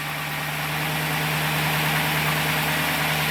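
A 2007-2013 Chevrolet Silverado truck engine idling after a remote start gives a steady, close, even rumble with a constant low hum and no speech.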